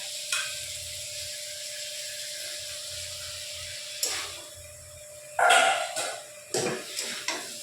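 Fried soya chunks being stirred into potato masala in a pan, with scraping spoon strokes and clanks at intervals over a steady sizzle.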